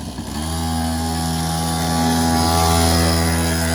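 A quad bike engine revs off-road with a loud, close, steady buzzing drone that climbs slightly in pitch and holds for several seconds.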